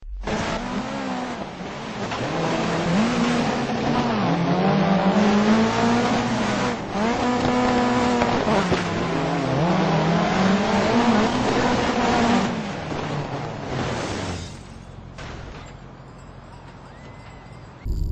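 A DC monster rally car racing and sliding in the Dirt 3 video game: a loud engine revving up and down through gear changes, with tires scrabbling during slides, before it drops off to a quieter rumble near the end.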